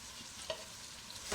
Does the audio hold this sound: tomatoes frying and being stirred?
yes